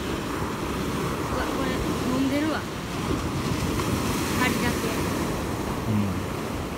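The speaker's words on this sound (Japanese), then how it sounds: "波が来てるわ、波が来てるわ。" Ocean waves on a sandy beach in Wakayama, a continuous wash of surf with wind noise buffeting the microphone, steady and fairly loud, with faint voices underneath.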